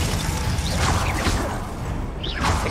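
Spell effects crackle and whoosh during a Hogwarts Legacy boss fight as the Glacius freezing charm is cast, a dense, loud mechanical rumble with rising swishes layered over it, with no talking.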